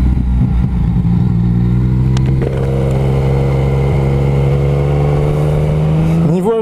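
Motorcycle being ridden, its engine holding a steady, loud drone close by before revving upward sharply near the end as it accelerates.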